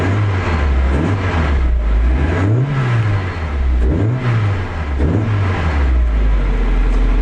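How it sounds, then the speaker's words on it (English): A Mazda MX5 trackcar engine is revved several times in a row, loud and close, the pitch rising and falling with each blip over a continuous idle rumble. "But I'll give it a little bit of a rev."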